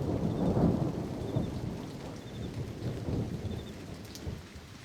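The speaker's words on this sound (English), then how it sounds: "filling the soundtrack are the sounds of rain and a storm." Steady rain and a rumbling thunderstorm fill a film soundtrack, with a continuous wash of falling rain under low, rolling thunder that swells and fades with no voices.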